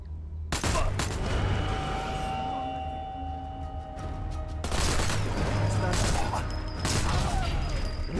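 Gunfire in the video game Sniper Elite 4, with sharp, loud shots cracking out in clusters over dense in-game combat noise, a voice speaking at moments beneath the din.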